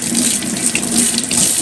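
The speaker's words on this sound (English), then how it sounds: "Going to run the hot water." Hot water gushes from a sink tap in a steady, loud, continuous stream close by, splashing into the basin without pause and with no talking.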